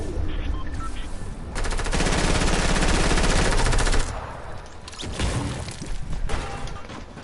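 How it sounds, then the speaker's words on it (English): Rapid sustained SMG fire in Fortnite, one long loud burst of automatic shots followed by shorter volleys, close and harsh with no talking over it. "That was a really good SMG."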